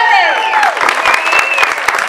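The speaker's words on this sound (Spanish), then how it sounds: "Un aplauso para el alcalde." A crowd at a rural farmers' day celebration in Barro Blanco, Yolombó, applauds the mayor, with loud clapping and cheering and a couple of voices calling out over it.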